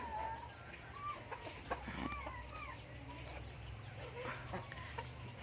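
A small, sweet-voiced Thai decoy rooster calls in the evening, giving a run of short clucking and crowing notes at an even rhythm, moderately close over a steady low background hum with no speech.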